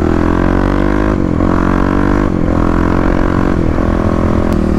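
A 2018 Kawasaki KLX351 motorcycle with a full Barker exhaust revs hard and close, its loud, raspy engine note rising and falling in several throttle blips over a steady idle, with no talking.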